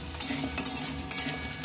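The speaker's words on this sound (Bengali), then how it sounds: "ফুলকপিগুলো বেশ একটু ভালোভাবে তেলের সাথে মিশিয়ে ভালোভাবে একটু ভেজে নিতে হবে" Cauliflower florets are stirred and fried in hot oil in a pan, a soft continuous sizzle with three brief scraping stirs of a utensil, close and fairly quiet.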